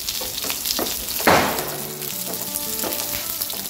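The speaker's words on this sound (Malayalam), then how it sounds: "കുറച്ച് കറിവേപ്പിലയും കൂടി." Curry leaves hit hot coconut oil after mustard seeds and green chillies, setting off a loud sudden burst of spitting sizzle that settles into steady crackling frying with faint tonal hums underneath, no voices.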